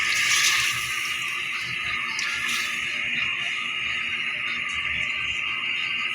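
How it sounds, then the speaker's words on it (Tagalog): A steady stream of water runs into a cooking pot of pork dinuguan with taro, a continuous splashing hiss that stays loud and close and is heard alone. "Lagyan natin konting tubig parang lumambot"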